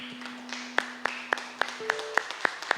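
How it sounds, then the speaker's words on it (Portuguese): A church congregation claps in a steady rhythm, about one sharp clap every quarter second, fairly close and moderately loud, with a sustained organ or keyboard tone held underneath. "Vamos aplaudir o Senhor."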